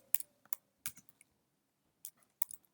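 Short bursts of keystrokes on a computer keyboard while entering a file name in a UNIX terminal, a few quick clicks, a pause, then another cluster of taps, close and fairly quiet.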